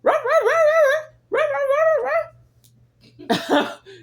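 A three-legged dog at home gives two long, wavering whining howls back to back, close and loud, followed by a short burst of rough, coughing barks.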